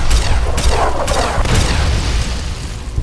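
Plasma rifle shots and booming impacts in Fallout, several loud bursts in the first half giving way to rumbling noise.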